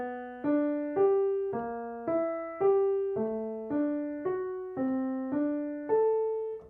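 Piano plays the middle accompaniment layer of Schumann's From Foreign Lands and People from Scenes from Childhood Op.15, a steady stream of evenly spaced broken-chord notes, clear and close with no voices.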